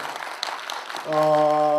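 An audience at a Korean documentary film screening and Q&A applauds briefly, a scattered patter of clapping for about a second before sustained musical tones take over.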